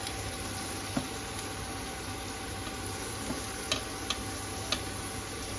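Onion frying in a small amount of oil makes a quiet, even sizzle, broken now and then by faint clicks and taps of a utensil.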